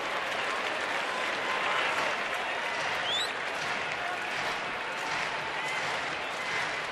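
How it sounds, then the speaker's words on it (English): A big crowd at a baseball game between Atlanta and Washington applauds steadily in a broad, distant wash of clapping that holds across the whole span, with faint talk underneath. "Big crowd starting to clap in rhythm for a rally here."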